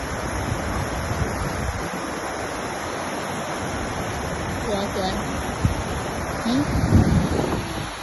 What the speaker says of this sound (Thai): เอ้น้ำตกมันมาจากไหยเหมือนมาจากข้างบนภูเขา มันก็ไหล